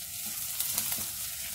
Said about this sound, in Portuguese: Vou colocar a cebola e deixar com que ela doure um pouquinho